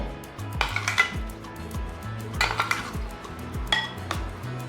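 Curd and masala being stirred together in a bowl for fenugreek tambuli, a spoon clinking and scraping against the vessel in a quick repeating rhythm, close and clear with no talking.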